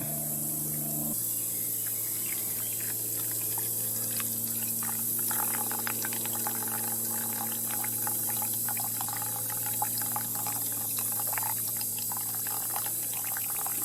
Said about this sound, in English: all you do is do a slow pour right over top of it